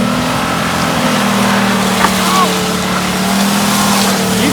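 A truck engine roars steadily at full throttle while stuck in mud, a loud continuous drone with wheels churning and no letup across the few seconds.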